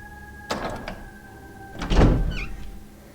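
A door creaks open with a couple of heavy thunks during a loading screen in Resident Evil HD, two distinct bursts over a faint steady hum.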